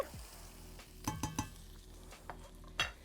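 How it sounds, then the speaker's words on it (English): A spoon stirs ginger into onions sweating in a soup pot, giving a few quick metallic scrapes and clinks over a soft, steady sizzle. "You give that a stir."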